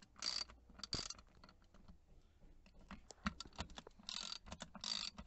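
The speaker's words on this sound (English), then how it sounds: "Let's get started by taking off the two torx bolts on either side." Torx bolts being undone on a VW Passat B6 steering wheel, heard as quiet ratcheting clicks and mechanical rattles in short bursts with pauses between them, no speech.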